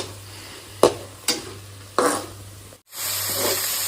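Onion, ginger and garlic masala sizzles in a pan while being stirred, with a few sharp scraping strokes over steady close frying hiss that swells louder near the end.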